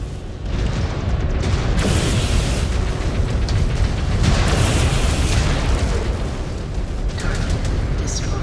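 A destroyed target blows up in MechWarrior combat, a loud, close, rumbling explosion that starts abruptly and roars on for several seconds with crackling debris, while a game voice speaks over it.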